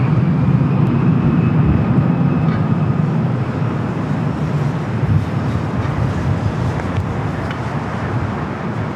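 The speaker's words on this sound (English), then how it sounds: "British Airways, Condor, A330 Neo heading up here for north side at arrival as well" Steady, loud broadband roar of a Condor Airbus A330neo airliner arriving at LAX, a continuous rumbling jet noise lasting throughout without pauses or talk.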